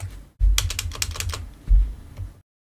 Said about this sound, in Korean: 키보드에 컨트롤 엔터 눌러도 똑같이 실행이 됩니다